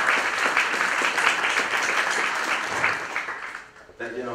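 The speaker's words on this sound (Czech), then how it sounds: "Pro něj prosím potlesk." An audience at an evening talk on the refugee crisis applauds steadily for several seconds, a dense wash of many clapping hands that fades out as a voice begins speaking.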